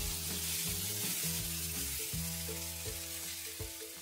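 Loud, continuous sizzling of a ground spice paste frying in hot oil in a wok for lontong or lodeh broth, with the scrape of stirring and a low cooking hum underneath.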